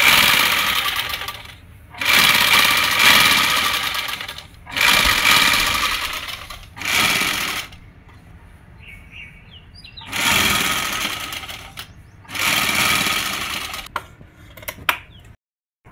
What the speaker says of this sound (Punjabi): ਇੱਕ ਇੱਕ ਸਿਲਾਈ ਇੱਥੇ ਵੀ ਲਾਵਾਂਗੇ, ਨਾਲੇ ਨਾਲ ਨਾਲ ਸਿਲਾਈ ਲਾ ਦਾਂਗੇ ਤਾਂ ਕਿ ਇਹਨੂੰ ਲੈਸ ਦੱਬੀ ਜਾਊਗੀ।